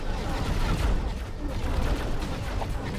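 Ship weapons gunfire in the space game X4: Foundations, a dense continuous rumble of shots and blasts filling the whole stretch, with speech mixed in.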